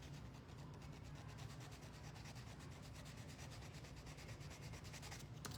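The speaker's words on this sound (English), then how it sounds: "Just gonna sand down my little edge here." Close, steady sanding of the small edge of a handmade Christmas wiggle magnet craft piece, a continuous fine scratchy rub with quick repeated strokes, quiet and alone without speech.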